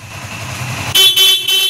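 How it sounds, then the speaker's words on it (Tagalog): A car's stock horn sounds in a few quick bursts, loud and close, cutting in after a steady engine hum. "subukan mo naman magbusina, stock horn"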